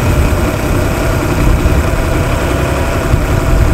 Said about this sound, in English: You hear the revs just came up a little bit more then.